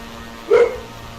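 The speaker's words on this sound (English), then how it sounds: "that is the dog that you hear whimpering at this time" A dog aboard a Black Square Analog Baron, a small twin-engine aircraft in Microsoft Flight Simulator 2020, gives a single short whimpering bark that stands out briefly over a low steady cabin hum.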